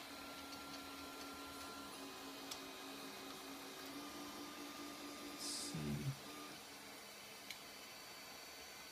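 An Alfawise U3 3D printer fitted with a dual cooling unit runs steadily, a continuous hum and whir of fans and motors with brief clicks and a short mechanical sweep near the end.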